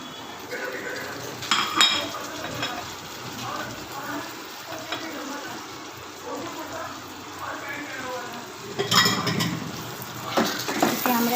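Spices with tomato and chopped green chili fry over a high flame for a soya chunk curry, giving a steady sizzle with metal clinks and scrapes of stirring against the pan and louder bursts near the end. A voice is heard at times.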